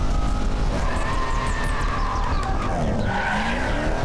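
Race cars in the Korean action film Hit-and-Run Squad (뺑반) skid hard on a road, with loud continuous tire screeching and sliding squeals over a dense roaring engine bed throughout.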